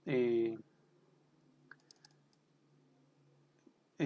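A computer mouse double-clicks on a database program: a pair of small, faint clicks in a quiet gap between stretches of a voice talking.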